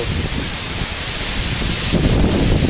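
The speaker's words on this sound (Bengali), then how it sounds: "প্রচণ্ড জোর বৃষ্টি শুরু হয়ে গেছে।" Heavy rain and wind from Cyclone Remal roaring as a dense, continuous wash of noise that swells louder toward the end, with no voices.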